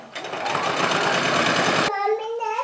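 A sewing machine stitches knit fabric in a fast, even whirring run that stops abruptly, after which a voice is heard briefly.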